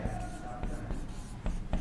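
Chalk or pen taps and scratches as a teacher writes agronomy lecture notes, a few quick strokes in a short irregular rhythm under quiet talking.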